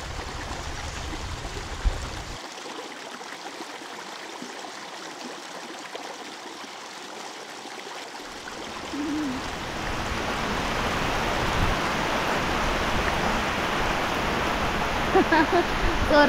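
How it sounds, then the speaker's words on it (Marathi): Heavy rain falls outdoors near a stream, a dense steady hiss that swells louder in the second half, with brief speech. "जोरदार पाऊस आला."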